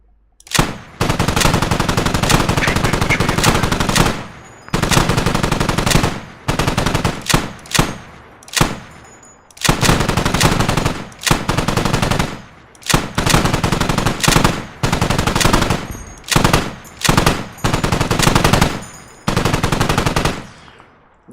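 Aircraft machine guns firing in the DCS flight simulator: very loud, long sustained bursts of rapid automatic fire, repeated many times with short gaps and a few brief stabs between them.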